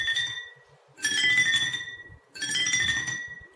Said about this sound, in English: You could get the sound of this Jal Tarang.